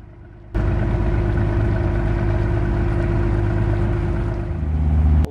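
A small car ferry carrying about five vehicles crosses a tidal sound between Cuan and the Isle of Luing, its engine drumming steadily and loudly from start to finish with no voices.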